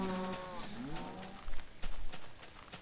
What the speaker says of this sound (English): Now I've got a whole bunch of cows.